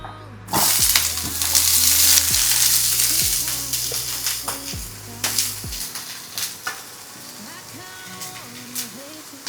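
Broccoli, beans, carrot and capsicum frying in a pan, a loud steady sizzle that fades gradually with some clinking and stirring, while a voice hums or speaks faintly in the background.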